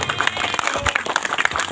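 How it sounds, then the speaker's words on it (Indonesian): Brief burst of audience clapping at a religious gathering in an Islamic boarding school in Cigudeg, Bogor, with scattered uneven claps and some crowd noise over a short stretch. "Tepuk tangan."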